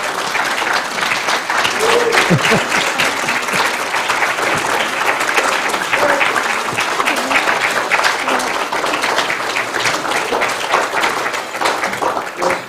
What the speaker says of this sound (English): Got a standing ovation.